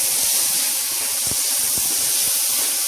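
Rice and tomatoes frying in a pan for khichdi, a loud steady sizzling hiss with a few faint scraping knocks from stirring.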